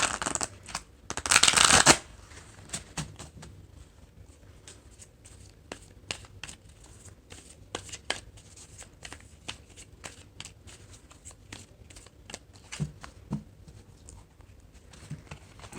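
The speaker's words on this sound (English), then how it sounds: "One more good shuffle here." A loud riffle of tarot cards at the start, followed by a long run of soft, scattered card taps and slides in a quiet room.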